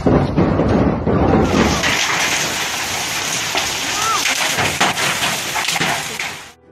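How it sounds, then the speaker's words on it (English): A thunderstorm with hail over Roldán in Santa Fe province, Argentina, heard as a steady, dense roar of hail and rain with gusty wind buffeting the microphone, continuing throughout before fading at the end. "a storm with electrical activity and hailstorms affected several cities in the province of Santa Fe."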